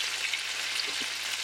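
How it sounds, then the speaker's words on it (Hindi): Tomatoes, green chilies and onion fry in oil for chana masala, giving a continuous close, bright sizzle with a faint stir near the end. "तमाम चीज़ों को डालकर फिर यहाँ पे फ्राई करते हैं।"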